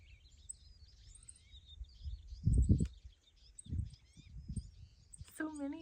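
Small birds chirp and twitter faintly outdoors in winter, high thin calls scattered throughout, while low rumbling bumps and a brief rustle sit nearer, with a final louder tweet at the end.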